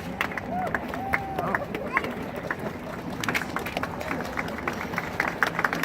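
Crowd at an outdoor prayer vigil and cleanup day cheering and clapping in a steady wash of noise, with scattered claps and voices throughout and no single speaker standing out.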